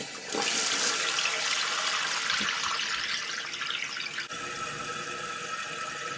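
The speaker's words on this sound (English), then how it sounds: "Now we're going to reach down and turn the water back on." A toilet tank refilling through a newly replaced fill valve, a loud steady hiss of rushing water that starts abruptly and keeps running, easing slightly toward the end.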